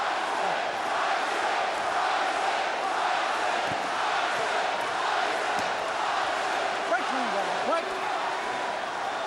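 Arena crowd noise at the Mike Tyson vs Danny Williams heavyweight boxing fight, a steady loud roar of spectators with occasional shouts, running continuously under commentary.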